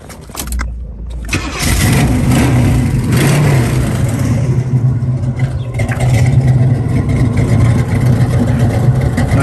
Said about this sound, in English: Nice cammed out engine.